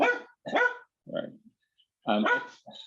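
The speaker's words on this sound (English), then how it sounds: "Oops, sorry about the dog there." A dog barks several times in short bursts, fairly close, heard indoors during a city council meeting; a voice briefly speaks.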